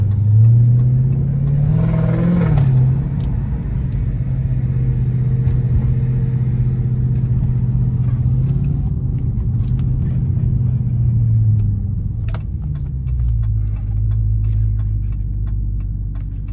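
Dodge Hellcat engine rumbling steadily from inside the cabin on a late-night drive, a low continuous drone with a brief rev early on and another swell near the end, plus faint clicks and ticks over the top.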